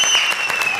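A studio audience at a comedy show claps in a brief, dense burst of applause, close and loud.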